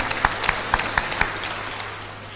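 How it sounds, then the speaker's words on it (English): A church congregation claps in a short, evenly spaced burst of about five distinct claps that then fade into a quiet room tone, fairly close but not loud. "Give him a round of applause."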